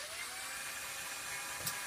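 A power driver whirs steadily while screwing small clips into the top rail of sliding barn door hardware, a continuous high buzzing with no speech.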